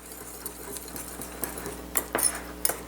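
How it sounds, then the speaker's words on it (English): A whisk clinks quickly against a bowl while mixing a Worcestershire sauce mixture for crock pot chops, a close, uneven tapping and scraping with sharper knocks toward the end. "We'll whisk that up"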